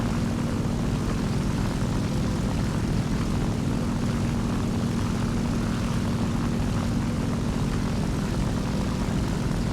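Propeller aircraft engines drone steadily in War Thunder, a World War II air combat game with a P-51 nearby, giving a continuous loud hum with a strong low tone and no pauses.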